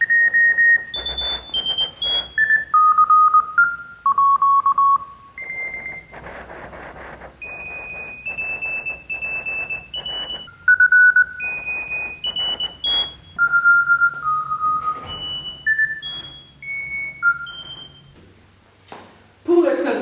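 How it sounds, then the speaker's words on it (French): Morse code rhythm is played as a run of synthesized MIDI oscillator beeps whose pitches follow ASCII codes, loud clean tones of shifting height in short and long bursts with gaps, and a voice speaks near the end. "ça me donne du code Morse qui a gardé la rythmique du code Morse"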